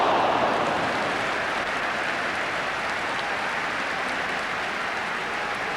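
A football stadium crowd applauds and cheers after a well-struck shot, a steady wash of clapping and crowd noise lasting several seconds with no let-up.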